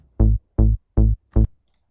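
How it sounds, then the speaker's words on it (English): Four evenly spaced, punchy trance bass notes, each a short sustained rich-harmonic stab widened with the Space Control stereo width plugin, followed by silence. "So it sounds like this with the Space Control."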